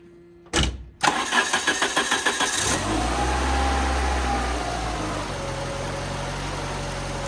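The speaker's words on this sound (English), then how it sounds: "we'll see if this little trickle charger and battery has enough voltage to fire it up" A Dodge Omni starter, run off a trickle charger and battery, cranks in rapid, rhythmic chugs before the engine catches and settles into a steady idle, fairly close.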